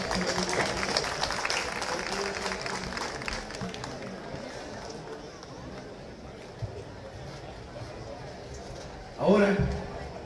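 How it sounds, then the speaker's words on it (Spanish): A crowd at a neighborhood festival in Pasaquina claps for the newly crowned barrio queen, a diffuse applause and murmuring hubbub with voices mixed in, fading slightly before a short louder burst near the end. "fuerte el aplauso"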